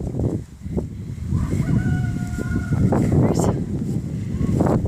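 Chickens at a coop in rural Ecuador cluck and call, with a rooster's crowing rising above a busy, steady background of outdoor noise, close and moderately loud.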